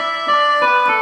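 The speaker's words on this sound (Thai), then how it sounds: "อันนี้เสียงแคน" Khaen voice from an SV800 electronic keyboard, a brief, loud, steady reedy chord of many sustained tones with no speech.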